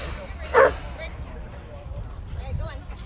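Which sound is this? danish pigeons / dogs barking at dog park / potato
dogs barking at dog park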